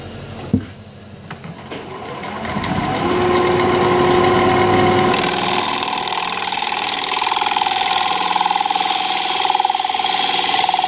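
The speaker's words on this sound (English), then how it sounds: "I'm going to sharpen up again." Wood turning tool being sharpened on a grinder for work on a maple crotch bowl, a steady loud whirring grind that starts after a brief knock and runs continuously to the end.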